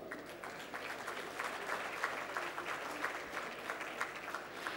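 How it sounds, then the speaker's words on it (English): An audience at a tech conference keynote applauds, a fairly distant, even wash of many hands clapping that holds steady for about five seconds. "Ladies and gentlemen, with a big round of applause,"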